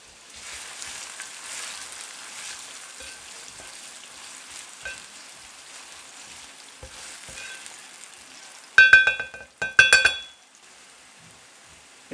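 Onions frying in sunflower oil with minced meat, a soft steady sizzle in a pan building to two loud bursts of crackling spatter near the end.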